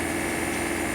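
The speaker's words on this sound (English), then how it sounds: "Listen to the turbo." Turbocharged engine of a 1988 Land Rover Santana crawler, a steady droning whine and rumble heard from inside while cruising in fourth gear, continuous and fairly loud.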